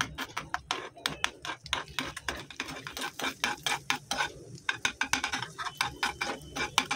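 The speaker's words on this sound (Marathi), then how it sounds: "अशा प्रकारे अंड हे स्मॅश करून घ्यायचे आपण" A spatula rapidly scrapes and mashes a salted egg frying in a pan for egg biryani, a dense run of sharp metallic clicks and taps with a steady rhythm, close and fairly loud over a faint sizzle, with no talking.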